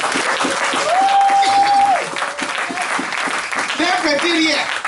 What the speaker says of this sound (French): Donnons une acclamation au Seigneur.